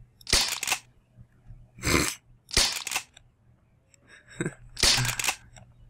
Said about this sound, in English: A BB gun's not gonna do shit against a zombie, but I want to test it out